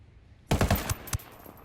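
An MK 16 rifle fires in the video game Ghost Recon Wildlands: after a quiet start comes a quick, close burst of loud shots, then one more shot follows a moment later.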